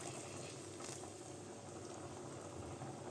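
Hot water poured into a pan of rice stew, the liquid bubbling and hissing softly in a steady close simmer for a few seconds, fairly quiet, with no speech.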